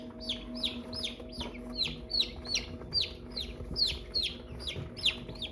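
Baby American Bresse chicks cheep continuously in a brooder, a dense chorus of high, rising peeps repeating in quick succession at close range, with a steady low hum beneath.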